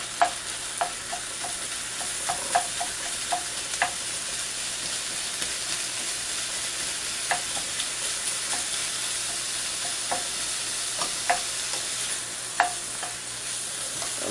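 A spatula clicks and scrapes against a pan as frying potato puff filling with garlic is broken up, sharp irregular taps over a low steady sizzle, close and moderately quiet.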